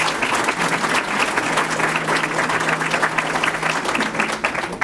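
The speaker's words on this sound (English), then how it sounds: "we're clapping in the beginning and we're clapping in the end" An audience applauds at a League of Women Voters candidate debate, with dense, steady clapping filling the room from start to finish and no talking.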